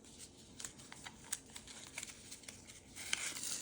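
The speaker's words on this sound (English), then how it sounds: "Then we have the actual power cord, which I will need, so I'll go ahead and unwrap that now." Crinkling plastic and paper rustling as the braided black power cord for a 2024 Apple Mac Mini is unwrapped, with scattered soft crackles and small ticks, close and fairly quiet, swelling into denser crinkling near the end.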